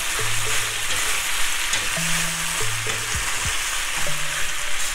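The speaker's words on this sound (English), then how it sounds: "you want to kind of saute it a few minutes well not really a few minutes about a minute just to get these flavors combined" Pasta with corned beef sautés in a pan, giving a constant sizzling hiss broken by a few short scraping and clattering strokes of stirring.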